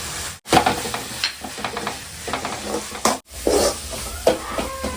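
Masala spices with chilli powder sizzle and hiss in a hot pan while being sautéed and stirred, with scraping and clinks of a spoon against the pan.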